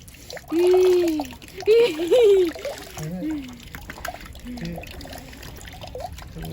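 Water trickles and splashes at a shrine's hand-washing basin, a few uneven pours mixed with light splatter, with people talking over it.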